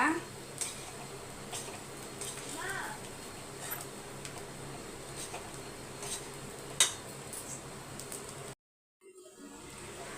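Cooked vegetables being mixed with salt in a pot for a lunch box meal, with faint scattered spoon clinks and scrapes over a steady low background, quiet and close, ending in a brief dropout.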